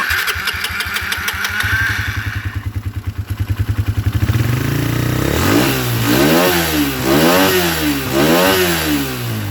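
Motorcycle with a standard PE carburettor being started after tuning: a loud close starter crank, then the engine catches and revs up and down in several repeated blips.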